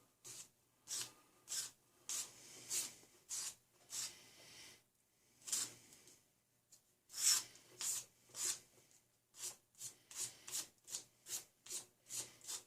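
Tweezer tips shaped by hand on 120 grit abrasive, producing a steady series of short, scratchy rasping strokes, close and quiet, with brief gaps between passes and a faster run of strokes toward the end.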